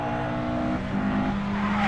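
Rallycross cars at a BTRDA Clubmans championship round race around a circuit with gravel run-off, engines droning loudly and continuously with a steady tonal whine and some tire scrub, no talk.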